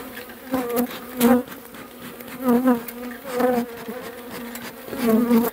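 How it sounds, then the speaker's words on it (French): Honeybees being tapped down into a hive buzz loudly and continuously, the drone swelling in repeated surges every second or so at close range. "Donc là je tape les abeilles dans la ruche."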